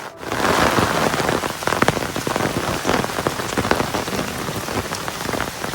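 Steady rain pours down on a Konkan farm during the paddy-planting season, a dense continuous hiss with close spattering drops across the whole stretch and no voices.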